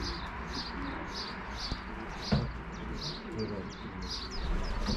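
Racing pigeons coo repeatedly around a loft as birds return from a race, soft rhythmic calls over steady outdoor background noise, with one brief knock partway through.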